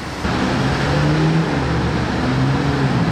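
A BMW M2 driving past on a street, a loud steady engine drone with a low rumble holding close and even for a few seconds.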